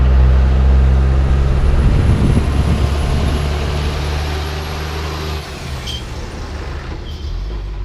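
A motorcycle rides along a road in Laos, its engine a loud continuous drone blended with heavy wind rush, easing slightly partway through.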